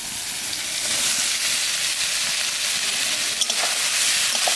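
Soybean chunks frying with spices in a pan, a steady close hiss and sizzle filling the whole stretch with no talk.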